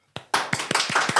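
Several people clap in a short burst of applause for a singer on a talk show, close and brisk, a few distinct hand claps followed by a denser spatter that ends abruptly.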